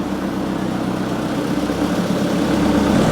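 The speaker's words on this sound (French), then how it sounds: "Là il y a le tracteur qui arrive." A low tractor engine idles steadily nearby, a continuous rumbling drone that swells slightly toward the end, with no voices.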